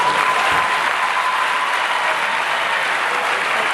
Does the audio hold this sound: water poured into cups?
no